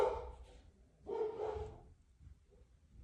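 A pet dog barking indoors, two muffled woofs about a second apart, moderately close but subdued, with a quiet room around them.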